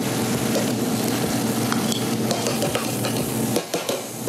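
Andouille sausage with garlic and onion rendering fat in a hot pan for red beans, a dense close sizzle and crackle with occasional stirring scrapes and utensil clinks, no voices.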